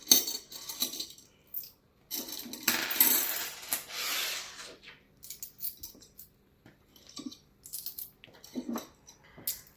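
Coins clatter and clink onto a surface in repeated short bursts while savings are counted, some spills denser and longer, others single metallic chinks, close and fairly loud with quiet gaps between.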